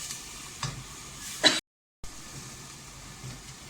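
Garam masala and freshly ground spice powder sizzle in a pan while being stirred, a steady close hiss with a few scraping strokes, a brief louder burst, then a short cut to silence before the quiet frying resumes.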